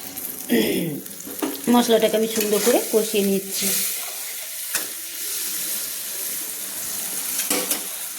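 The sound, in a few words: frying and stirring biryani masala with water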